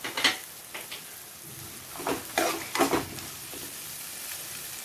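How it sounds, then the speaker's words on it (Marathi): Val (field beans) are sautéed in a pan over high heat: a faint, steady sizzle broken by a few short scraping bursts of stirring, with no talk. "मोठा गॅस करून चांगले 2-3 मिनिटं मी हे वाल परतून घेत आहे"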